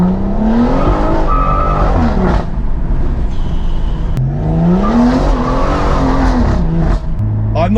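A tuned Stage 2+ BMW M140i with over 460 bhp revs loudly and up close, its engine note rising and falling through repeated pulls, with a sharp crack or two from the exhaust between them.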